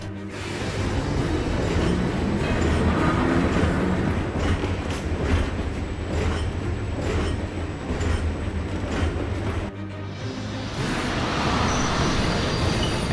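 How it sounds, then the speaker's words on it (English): Trains roll through a battlefield supply depot in Valkyria Chronicles 4, a loud, continuous rumble with rhythmic clickety-clack of wheels over rail joints that briefly dips before surging again. "And here the trains are going to move again."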